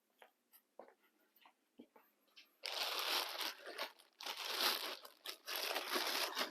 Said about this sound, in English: get it put back into the clay bag, the plastic bag, and wrap it up airtight